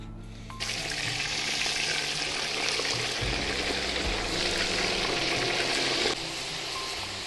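Meat hitting hot oil in a pot for Uzbek plov, a loud, steady sizzle that bursts in after a brief quiet start, holds evenly, then eases slightly near the end, with no talking.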